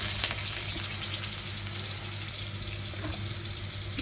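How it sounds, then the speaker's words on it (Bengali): Dried red chillies and bay leaves fry in hot oil and ghee, giving a steady, close, loud sizzle with a faint crackle and no voices. "দিয়ে দেব ফোড়নের জন্য শুকনো লঙ্কা আর তেজপাতা"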